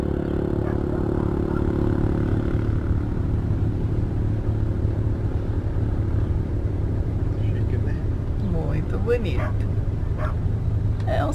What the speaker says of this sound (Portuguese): E tem um cachorro latindo.